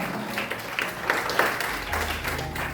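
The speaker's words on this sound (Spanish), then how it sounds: "Un aplauso al Señor." A church congregation claps for the Lord, a brief burst of moderate applause with a few sharper hand claps standing out, set against a sustained low musical tone in the room.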